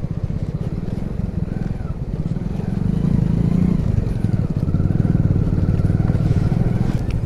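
A Hero Splendor Plus 100cc motorcycle labours up a badly broken mountain road in Uttarakhand, its engine a loud, close, steady low drone that swells slightly midway as it climbs, with faint rattles underneath.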